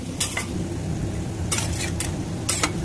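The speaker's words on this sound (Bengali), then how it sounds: "আর এটাকে আমি খুব ভালো করে কষাবো।" Spice paste and tomato being sautéed in a pan, a low steady sizzle underneath with a few sharp clinks of a utensil scraping and tapping the pan at intervals; no talking.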